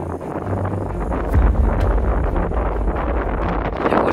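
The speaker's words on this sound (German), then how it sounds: "kam ein starker Wind auf." Strong wind blows hard across an outdoor camp in the Scottish countryside, a loud, continuous roar buffeting the microphone with gusty surges, no voices.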